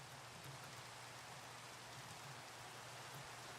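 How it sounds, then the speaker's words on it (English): Rain falling in the Minecraft video game, a steady even hiss of drops heard alone at a quiet level throughout. "It's raining here and snowing over here."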